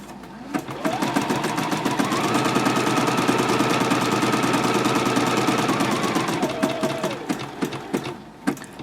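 A sewing machine stitching a regular zigzag with stitch width 5.0 and length 1.4, running steadily at close range with a fast rhythmic whirring hum for about eight seconds before stopping.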